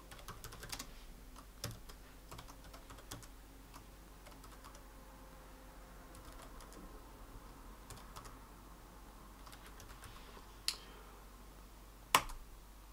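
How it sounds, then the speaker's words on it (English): Command being typed on a computer keyboard, soft scattered key clicks at an uneven pace across the stretch, with a couple of sharper louder key presses near the end over a faint steady hum. "So there's another command we're gonna type in for that one."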